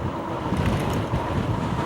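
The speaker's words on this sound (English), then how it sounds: "Yeah, the wind is blowing on us." Wind buffeting a microphone, producing a low rumbling roar that surges and dips unevenly over a couple of seconds.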